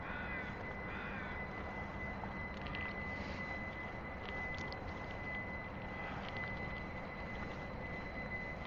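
Crows cawing along a riverside greenway on the Fraser River in Burnaby, a few scattered calls at middle distance over a steady outdoor hum.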